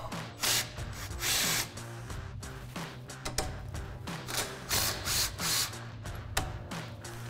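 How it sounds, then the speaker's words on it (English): Cordless impact wrench fitted with a 12mm socket spinning out caliper bolts on a 2005-2014 Mustang, several short loud bursts of rattling hammering over a mechanical hum, close up. "we're gonna grab our impact with our 12mm socket. We're gonna take the 2 bolts out to hold the caliper on"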